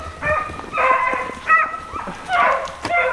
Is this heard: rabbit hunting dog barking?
yes